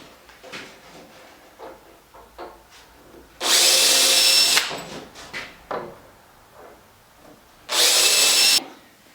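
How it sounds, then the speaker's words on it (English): Two bursts of power drilling into the transom of a PT11 boat, each lasting about a second, loud and close, with quieter handling knocks and rubbing of the workpiece in between. "marking on the transom where the holes need to be drilled to align with the hull panels."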